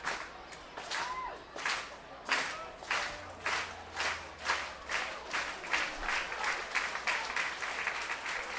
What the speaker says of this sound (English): Crowd in favor of Rossman here, cheering him on as he gets set on the first base side of the rubber.